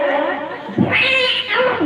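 A cat meows and caterwauls close up in a short burst of drawn-out, wavering cries, with a person talking around it.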